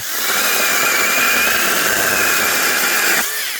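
Model 200 chainsaw cutting through oak wood, a loud, steady high-pitched whine for about three seconds that cuts off abruptly near the end.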